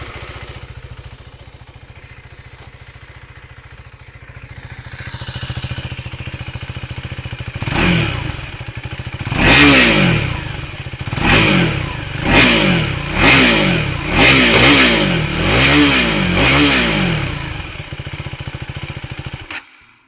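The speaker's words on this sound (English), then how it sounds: "Now let's listen to that exhaust note and show you what it sounds like." A 2025 KTM 390 Adventure motorcycle idles, then its single-cylinder engine is blipped in a series of sharp revs through the exhaust, rising and falling repeatedly before settling back toward idle, loud and close.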